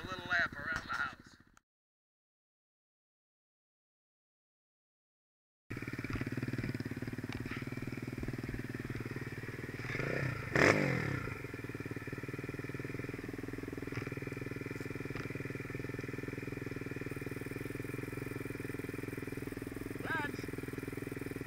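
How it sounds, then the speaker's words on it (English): Kawasaki KLX 140 dirt bike ridden on a lap around a house, its small engine droning steadily under wind buffeting after a brief silent gap, with a short rev or clatter midway. "take the little KLX 140 for a little lap around the house."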